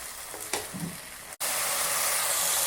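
Tomatoes with a little salt sauté in a pan for ridge gourd peel chutney. After a quieter stretch with faint stirring, the oil breaks into a loud, steady sizzle that carries to the end.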